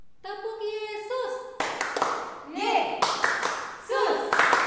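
Sunday school children and a leader at an online church service chant a rhythmic clapping cheer, with sung and spoken voices punctuated by a few sharp group claps.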